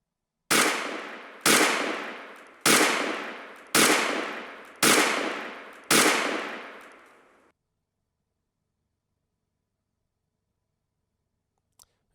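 Six sharp, loud pistol-like shots at a laser ammo dry-fire training range, fired at an even pace about one second apart, each decaying quickly, then near silence with a faint click at the end.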